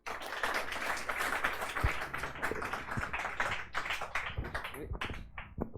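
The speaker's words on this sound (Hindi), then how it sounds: "चलिए इसके लिए जोरदार ताली बजा दीजिए।" Students in a classroom clap hard and fast, a dense, steady burst of applause lasting several seconds with sharp individual claps standing out near the end.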